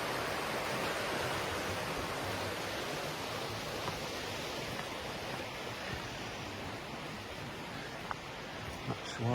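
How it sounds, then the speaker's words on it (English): Below a steep bank at Mells, a river flows about twenty feet down as a soft, steady rushing hiss. The level stays faint and even throughout, with a few light rustles near the end. "Looking up the river now,"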